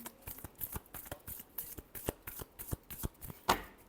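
Tarot cards being shuffled by hand at close range: a quick run of crisp, papery riffles and flicks in an uneven rhythm, ending in one sharper snap, with no talking.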